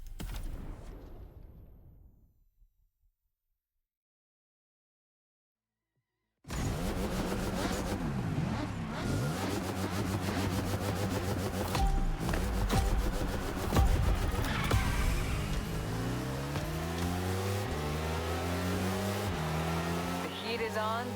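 Ducati Panigale motorcycle engine in the video game The Crew Motorfest, revving steadily and loudly after a few seconds of silence, with rising and falling pitch sweeps as the bike shifts through gears on a dark city route.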